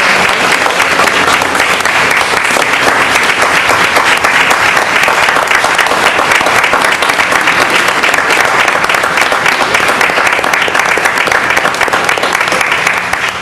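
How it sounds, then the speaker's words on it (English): A city council meeting room fills with sustained, loud applause from the audience for students' family and friends. The dense clapping holds steady for the full stretch, with a few voices mixed in. "Let's give a big round of applause for our family."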